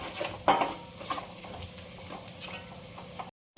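Aubergine masala being stirred and sautéed in a pan for a Maharashtrian baingan bhaji, with spoon scrapes and clinks against the metal over a low cooking hiss, steady and close, ending abruptly.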